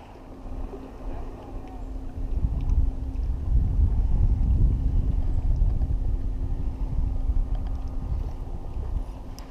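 A boat passes by on a lake during bluegill fishing, a steady low engine rumble and wash that swells in the middle and stays loud, with wind noise on the microphone and no talk.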